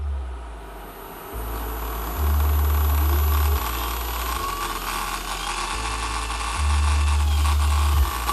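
A converted electric bicycle's motor runs at full throttle, a steady low hum that swells in long loud stretches and eases back between them, heard close up with no talk.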